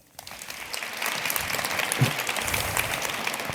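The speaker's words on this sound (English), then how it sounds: "A round of applause." An audience greets a sustainability executive from Swedbank with applause, which starts abruptly and then settles into a steady, fairly close patter of many clapping hands with no talk over it.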